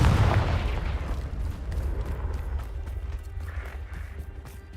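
A Confringo fire spell explodes in Hogwarts Legacy with a heavy boom at the start that rolls into a long, low rumbling decay, with no talking.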